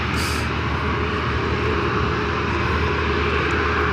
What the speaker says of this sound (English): The next arrival, Delta Connection, operated by Republic Airways, 5708, coming in from Nashville, Tennessee, on the E170.